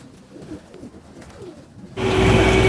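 Soft racing-pigeon coos and flutters sound close by, then a sudden burst of loud rustling noise takes over near the end as the pigeon is released.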